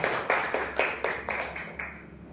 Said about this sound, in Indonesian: Boleh Bapak Ibu kita kasih aplaus dulu yang mulia